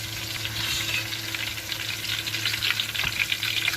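Chili bajji crisping in oil crackles and hisses continuously at close range, a dense bubbling sizzle over a low background hum, with no voices.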